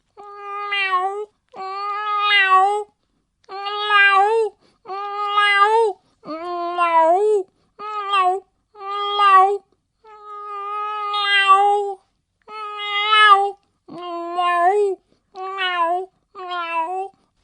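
A voice imitates a male cat calling for a mate, giving a series of drawn-out, wavering meows and yowls in about a dozen separate bursts with short pauses between them, loud and close, with no other talk.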